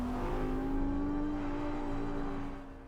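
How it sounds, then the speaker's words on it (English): An Audi R8 V10 Plus race-derived supercar engine hums with a steady high-pitched tone that rises slightly, close and loud, then eases off and drops in level at the end. "Race car construction as tempestuous as a hurricane, the Audi R8 V10 Plus."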